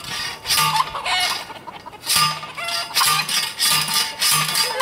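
Chickens cluck repeatedly in a coop, with short, close, fairly loud bursts coming in an uneven rhythm over breezy background noise.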